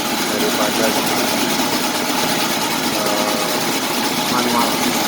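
Sakiba drill machine engine running while lifting drill rods at a drilling site, a steady loud mechanical drone with a busy rattling texture that persists without pause, some faint voices mixed underneath.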